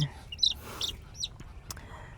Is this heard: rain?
no